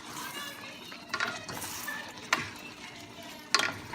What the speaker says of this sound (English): And give it a good stir again.